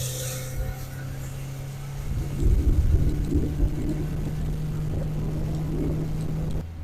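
A pontoon boat motor drones steadily at a low pitch, swelling louder for a moment as it powers up before settling back to an even, continuous rumble.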